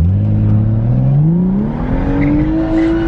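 A BMW 435i with catted downpipes and a burble tune revs hard under full throttle, its exhaust note climbing steadily in pitch as the car accelerates, loud and close throughout.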